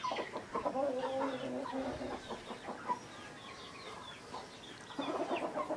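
A village rooster calls from below with repeated clucking, rhythmic calls at moderate distance that rise and fall, followed by a brief quieter pause and a renewed burst, no speech.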